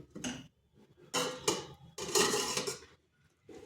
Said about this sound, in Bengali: এরপর উল্টো পাশটা ঘুরিয়ে দিচ্ছি আর ঢাকা দিয়ে আবার 2 মিনিট রেখে দিচ্ছি।